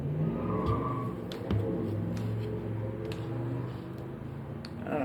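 A car heard from indoors drives recklessly outside, its engine revving and roaring at a moderate distance with a steady rumble and a few sharp transients.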